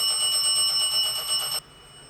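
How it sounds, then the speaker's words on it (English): An electronic bell rings steadily during a paranormal investigation at a reputedly haunted house, a loud, close, sustained ringing tone that cuts off abruptly, leaving faint room noise. "What is that? That's the fucking bell."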